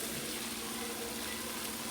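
Mustard oil poured from above over food in a pan, giving a steady, close hiss of sizzling that holds evenly throughout, with no talking.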